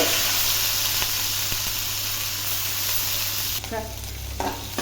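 Pounded pachi karam with cumin fries in a pan, a steady close sizzle with hiss that drops partway through, followed by a few stirring scrapes.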